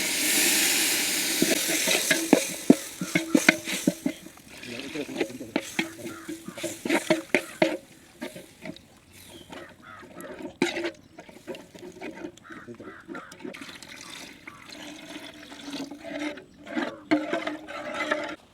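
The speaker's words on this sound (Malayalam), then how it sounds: "അപ്പോൾ ഇതിലേക്ക് ഇനി വെള്ളം ഒഴിച്ചു കൊടുക്കുക." Water poured into a big pan of turmeric, coriander and chili powder for a Kerala-style fish head curry makes splashing, bubbling and clattering sounds close by, uneven and intermittent, fading toward the end.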